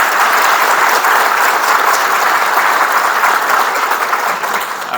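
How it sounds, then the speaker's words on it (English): An audience applauds at a groundbreaking ceremony for ASCEND with Governor Parson and First Lady Teresa Parson present, producing steady, dense clapping from a sizable crowd that fades slightly at the end. "Let's clap for them."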